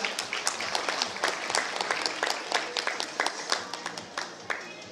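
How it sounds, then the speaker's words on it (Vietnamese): An audience applauds course graduates with brisk, sustained clapping, individual claps standing out in a steady rhythm, close and fairly loud throughout, with some voices mixed in. "Xin một lần nữa là chúng ta cho tràng vỗ tay cho tất cả những anh chị đã đi qua khóa bây giờ."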